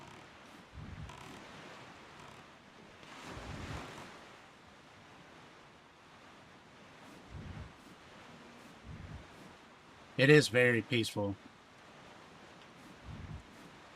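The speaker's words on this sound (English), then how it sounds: "The sound of the waves." Gentle, steady ocean waves wash softly across open sea in The Legend of Zelda: The Wind Waker, a faint continuous surf bed running under a few scattered spoken words and brief game chimes.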